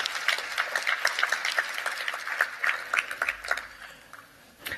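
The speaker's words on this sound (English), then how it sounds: "Can we have a round of applause for our talented ensemble?" An audience applauds a young Malay ensemble in traditional warrior garb at an opening ceremony, giving steady, moderately loud clapping that thins out and fades near the end.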